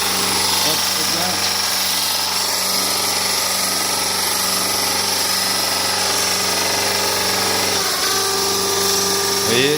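A machine grinding tobacco leaves runs with a dense, steady mechanical whir and buzz as its rotation speed is raised, loud and continuous, with a voice talking faintly over it.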